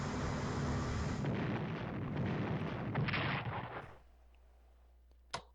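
In the Strategic Command WW2 Pacific war video game, a heavy rumbling explosion sinks the carrier Enterprise, a dense roaring blast that cuts off abruptly, followed by a faint click.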